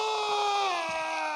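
A character screaming while being murdered in Kingdom Come: Deliverance II, a sustained, strained high-pitched scream that holds steady and loud for over a second.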